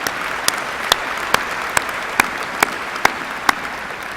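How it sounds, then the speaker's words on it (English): Graduates at a university spring commencement ceremony applaud in a steady, even patter of clapping, with regular sharp individual claps standing out above the crowd throughout. "you should also give yourselves a big round of applause for that."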